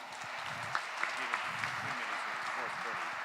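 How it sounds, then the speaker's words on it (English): Faint, steady applause from an audience at a startup pitch event, a soft even patter of clapping with a few sharper claps standing out, heard at a distance. "So big applause to Agnieszka."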